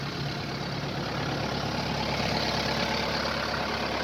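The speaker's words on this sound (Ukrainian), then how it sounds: "ми подивимося і почуємо звук роботи двигуна" The diesel engine of a 2009 Kubota SMZ 95 tractor, 94 hp, turbocharged, runs at a steady idle, a continuous loud low rumble with a constant hum and no voices.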